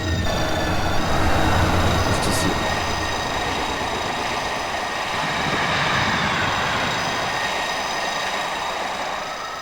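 A BB26000 electric locomotive hauls an international night train in Train Simulator, a steady rolling rumble with a faint high whine running continuously throughout, and no voices.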